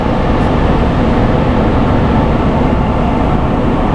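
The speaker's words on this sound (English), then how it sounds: "we're on the tram heading back to the parking structure" A loud, steady rumble of a Disneyland parking tram in motion, with continuous rolling and rattling noise and no voices.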